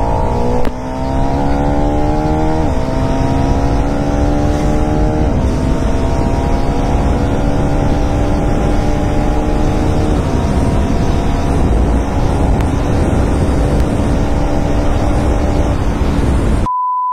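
A KTM Adventure 390 motorcycle engine under way, with a steady loud drone whose pitch climbs through the gears several times over a constant wind rush.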